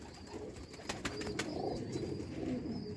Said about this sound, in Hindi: ऐ ने सियालकोटी चूहे कबूतर देखो।